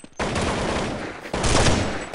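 Rapid gunfire in a competitive online shooter match final, two loud bursts of automatic shots close up, separated by a brief pause, with no talking.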